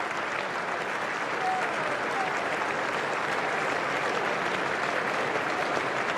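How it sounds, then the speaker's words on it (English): Polite applause from the cricket crowd in the Chapel Stand at the Adelaide Test during the 2006-07 Ashes, a steady, continuous clapping that holds at an even level across the whole stretch, with no clear voices standing out. "More polite applause over to our right in the posh seats of the chapel stand."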